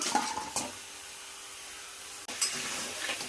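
Crabs that were fried earlier are stirred into a pan of masala, giving soft scraping and a light sizzle with a few brief clinks, close and fairly quiet, with no talk.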